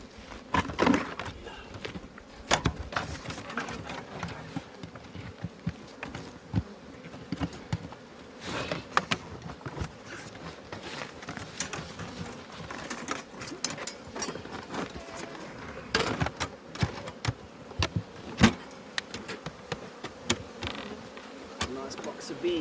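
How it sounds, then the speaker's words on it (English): Bees buzzing around an open hive box during a hive inspection among aloes, a steady close insect drone with scattered sharp bumps and clicks throughout, no speech. "Nice box of bees."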